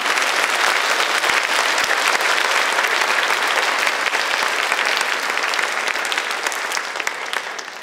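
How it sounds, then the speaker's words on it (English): Audience at an elementary school fine arts awards assembly clapping, a dense sustained round of applause from many hands in an indoor hall, tapering off slightly at the end. "let's give them one round of applause"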